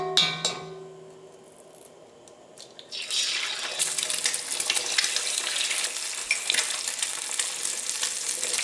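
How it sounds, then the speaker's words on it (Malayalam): Egg scrambled and fried in oil in a pan for chilli parotta: a steady loud sizzle begins about three seconds in and runs to the end, after a quieter stretch with a few clinks of the pan. "കുറച്ച് എണ്ണ ഒഴിച്ചിട്ട് എണ്ണയിലേക്ക് മുട്ട ഇട്ടിട്ട് കൊത്തി പൊരിച്ചെടുക്കുക"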